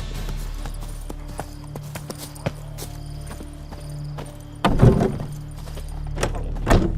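Hooves of Roach, Geralt's horse in Witcher 3, clip-clop in a steady walking rhythm over a low ambient hum, with a louder burst of hoofbeats near the end.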